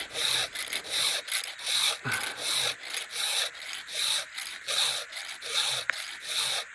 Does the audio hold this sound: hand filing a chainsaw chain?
yes